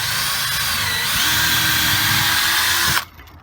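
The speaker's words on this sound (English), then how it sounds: "drill centre of the wood." A power drill bores into the centre of a piece of wood at an allotment, a loud steady whine running for about three seconds before cutting off abruptly.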